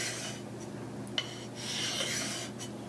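A sharpening stone rubs along a hedge shear blade, held to match the blade's angle. It makes a few quiet, scraping strokes, up close and fairly faint.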